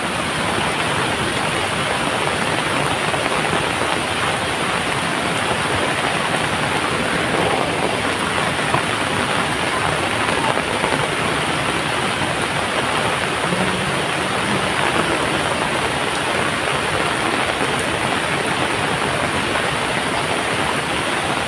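A Konkan village river in full flood rushes past as a loud, steady roar of churning water, continuous and close, with no voices over it.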